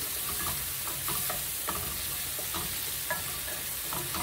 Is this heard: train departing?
no